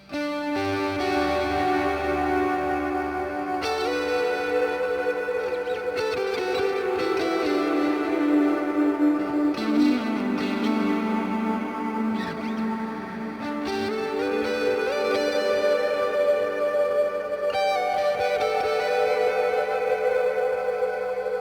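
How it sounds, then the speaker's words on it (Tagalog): Electric guitar played through a Valeton GP200 multi-effects unit on a mid super overdrive patch, sustained distorted chords and melodic lines ringing continuously with a spacious ambient wash, no voices. "paparinig ko na lang sa inyo yung mid super OD. So, ito yung tunog niya."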